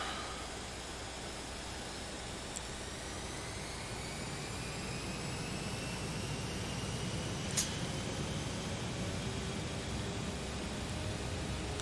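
Airliner jet engines spooling up for takeoff in the Prepar3D flight simulator, a broad steady roar with rising whining tones, constant and loud, one brief sharp click midway, no talking.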